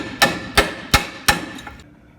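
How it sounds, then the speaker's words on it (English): A hammer strikes a wrench held against a Dodge Ram 4x4 truck control arm in four sharp, evenly spaced metallic blows, loud and close, with ringing decay and no talking. "so I did some hammering on it"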